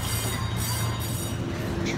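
An amusement park ride train runs along its rails at Bowcraft Amusement Park, giving a steady rumbling roll with a faint squealing hum, close and continuous, with no talk.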